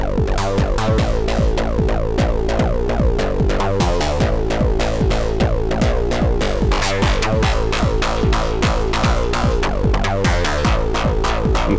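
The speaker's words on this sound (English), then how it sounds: "This Brooks oscillator is FMing the Rubicon, which is a through zero oscillator." A modular synth patch has a Brooks oscillator FM-modulating a Rubicon through-zero oscillator, giving a loud, continuous metallic sequence of rhythmic plucked tones with shifting pitches and a throbbing pulse.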